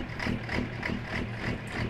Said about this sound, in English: Matt, this is engine sounds comes actually inside the truck